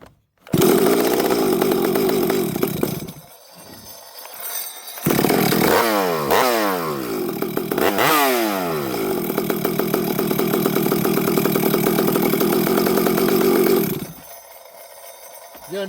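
A new Stihl chainsaw engine starts and runs loudly close by, revving and dropping in pitch a few times, then settling to a steady roar before cutting out near the end; no talking.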